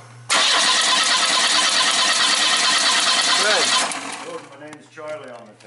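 Starter cranking on a 1988 Oldsmobile Cutlass during an ignition spark check, a loud steady whir close by for several seconds, then it stops and people talk.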